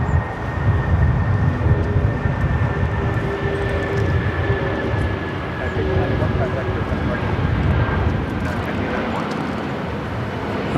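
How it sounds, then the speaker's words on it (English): Air China Boeing 777-300ER jet roaring steadily in a broad rumble as it takes off from LAX toward Beijing, heard from a distance with a voice talking over it. "This is Air China 988 taking off to Beijing on the"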